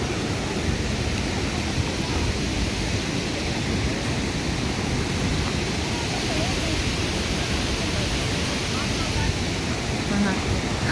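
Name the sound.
mountain stream water rushing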